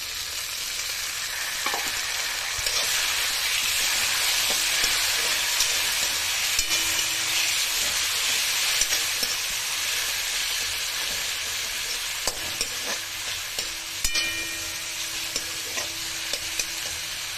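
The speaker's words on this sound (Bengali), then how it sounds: "হালকা ফার্স্ট ফ্রাই করে একটু 30 সেকেন্ড মতন এরকম করবেন" A pan of food sizzles steadily through a light first fry as it is stirred, a close, continuous hiss broken by soft scrapes of the spoon, with no voices.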